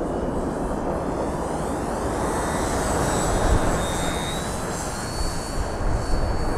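A 1/7-scale Sopwith Camel RC model biplane with a large propeller flies overhead, its engine a steady airborne drone that swells slightly at moments, heard alone and at a moderate distance.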